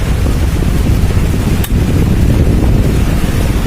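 A repaired electric stand fan runs strongly, its blades pushing a loud, steady rushing roar of air close to the microphone with no letup.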